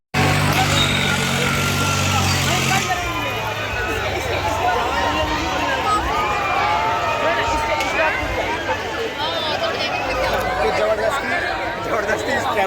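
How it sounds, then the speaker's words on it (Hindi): A dense, noisy crowd at a busy fair (mela), a constant wash of chatter, shouts and bustle with engine-like rumble underneath, loud and unbroken, with someone talking close over it. "देखो तो बहुत भीड़ है, आवाज़ नहीं आ रही थी मेरी"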